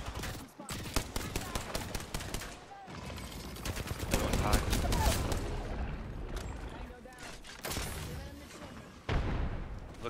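Apex Legends gunfire rattles in bursts and sustained volleys, with heavier booming stretches mid-clip, while players talk over the shooting.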